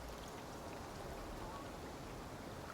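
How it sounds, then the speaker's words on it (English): Steady rain shower hissing across a survival-game landscape in Icarus, a dense even wash of falling drops with no breaks, moderately quiet throughout. "Yeah, I can't, unfortunately, do too much about rain."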